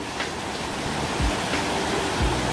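A waterfall in Deokpung valley roars down into the deep Yongso pool, a dense, unbroken rush of water that fills the gorge at close range.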